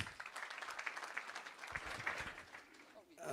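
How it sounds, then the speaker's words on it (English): Applause from an audience at a Kenyan football event where officials are being endorsed and unveiled, steady broadband clapping of moderate loudness that thins toward the end before a voice starts. "So a round of applause, please."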